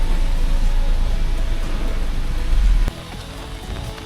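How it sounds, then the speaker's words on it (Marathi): Fine light rain falling outdoors in a village, a dense steady patter on surfaces that is loud and close at first, then drops to a softer hiss near the end, with no talking. "खूप मस्त वातावरण झालं, एकदम बारीक मस्त पाऊस"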